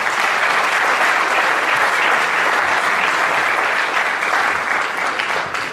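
An audience at a 2023 mayoral debate in Fulton gives the candidates a steady, sustained round of applause, dense clapping from many hands filling the room at an even level throughout.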